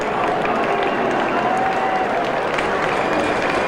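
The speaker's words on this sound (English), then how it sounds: "a polite ripple of applause across this ground" Stadium crowd at a 1996 Australian football match between the Swans and Brisbane, giving a polite ripple of applause after a goal; steady, moderate clapping and crowd murmur spread across the ground, with a commentator's voice faintly underneath.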